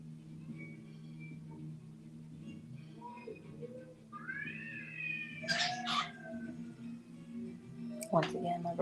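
A cat meows a few times in a room, rising wavering cries over steady background music, with caged birds chirping nearby and bright chirps toward the end.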